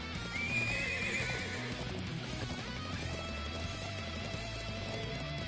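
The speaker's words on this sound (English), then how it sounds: "These are war horses from a venerable bloodline." War horses of a venerable bloodline neigh and gallop in a game battle scene, a long whinny rising early over steady pounding hoofbeats and dense rumbling background.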